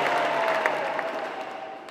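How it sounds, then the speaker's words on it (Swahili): Catholic parish congregation clapping for a priest at a thanksgiving Mass, a broad, even wash of applause that stays full and slowly fades toward the end, with no talk over it. "Makofi kwa baba. Makofi tena."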